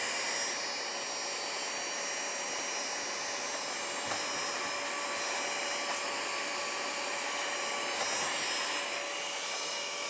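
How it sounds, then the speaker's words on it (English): A small vacuum wand attachment cleans lint from a sewing machine, giving a continuous steady whooshing whine with a thin high tone, nearby and unchanging apart from faint rubbing touches. "So I'm gonna start with the wand attachment."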